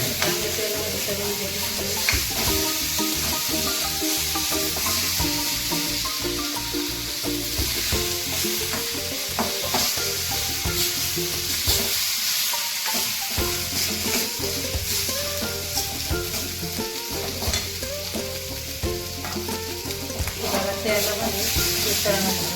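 Brinjal masala with black masala sizzles loudly and steadily in hot oil, with frequent scraping and stirring strokes throughout and no talking.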